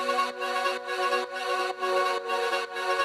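Lush synth pads layered with vocal samples in an FL Studio electronic track, pulsing as a sustained chord in regular swells about every half second. The layers play alone, full and bright, with no talking.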